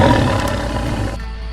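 A cartoon tiger lets out a loud, close, growling roar that rumbles deeply for about a second before cutting off abruptly.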